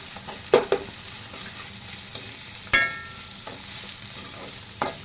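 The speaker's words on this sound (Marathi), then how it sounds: "आता बारीक चिरलेला कांदा टाकते." Finely chopped onion frying in a pan for paneer bhurji, a steady soft sizzle with several sharp clinks and scrapes of stirring, close and without talk.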